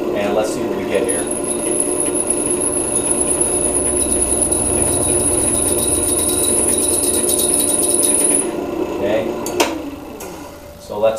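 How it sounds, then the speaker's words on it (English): A drill press spinning at about 600 RPM bores into a workpiece wetted with cutting fluid. It gives a steady high-pitched squeal with a grinding rumble beneath it for about eight seconds, then stops, leaving a few light clanks and shop noise. "I'm about 600 RPMs on the drill press, and let's see what we get here."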